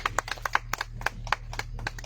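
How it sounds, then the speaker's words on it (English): A small audience at a music concert gives scattered applause, a sparse run of distinct, fairly faint hand claps with gaps between them and no talk over it. "So please just give her a round of applause"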